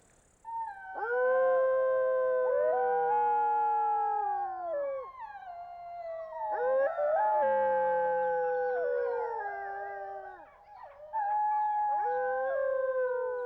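Several wolves howling together in long, rising and falling wails that overlap and swell, carrying across open space over a lake between forests, with no talking.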